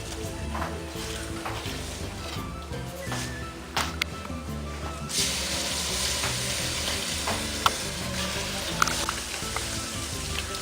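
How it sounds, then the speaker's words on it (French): Langoustines sizzle and fry steadily in a hot pan as white wine is poured in little by little, a continuous crackling hiss with occasional sharper pops, close and fairly loud. "Et là, je vais mettre petit par petit mon vin blanc"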